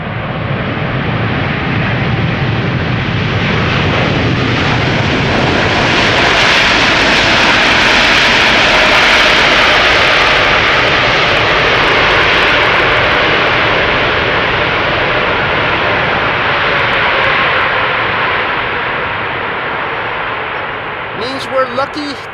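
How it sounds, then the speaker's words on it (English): A large airliner lands at a busy two-runway airport, its jet engines producing a loud, sustained broadband roar that swells and holds steady for about twenty seconds before easing at the end. "lucky to have seen and heard this airplane land here"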